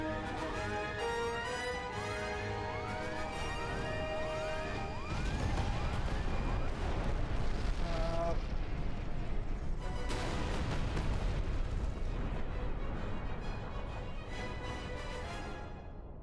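Loud, dense battle sounds from the video game Space Marine with rumbling blasts and crashes, a swooping siren-like tone early on, continuous and chaotic throughout.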